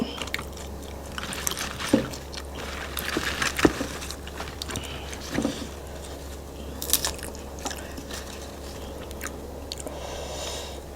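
Close, wet chewing and soft biting of grilled fish, served with Thai som tam at a Nong Khai eatery, comes in irregular bursts over a low steady background hum.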